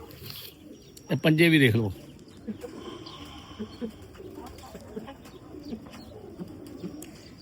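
Piplan pigeons on a Lahore rooftop give soft cooing under a man's speech, with one louder, sweeping call near the start, then quieter murmurs and light clicks.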